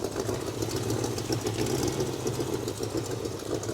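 A Chevrolet El Camino engine runs at a steady idle with an even, rumbling, slightly knocking pulse, heard close up and without any talking.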